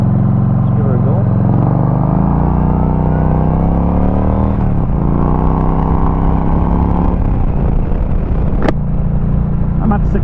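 A Yamaha Midnight Star 1300 motorcycle accelerates on a ride, its loud, close engine note climbing steadily in pitch, briefly dipping at a shift, then pulling higher again over constant wind rush.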